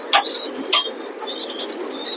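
Pigeons kept as racing birds, short soft coos and a few chirpy calls close by, in quick bursts over a quiet background.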